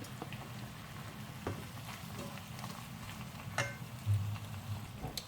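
Small cubes of red and green bell pepper frying in a pan for paella, a soft, steady sizzle with a few light scrapes and stirring clatters close by.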